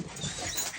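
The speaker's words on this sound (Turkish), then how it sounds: "Balıkesir köpeği diye geçiyor ırkı." A Balıkesir-breed dog, about two years old, pants close by in short breathy bursts that carry steadily through a brief moment, with no talk over it.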